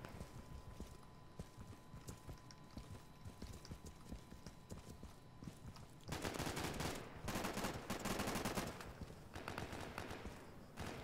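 Ambient gunfire in the tactical shooter Insurgency: faint distant shots and bursts crackle in the background, growing denser and louder partway through, amid a noisy outdoor soundscape.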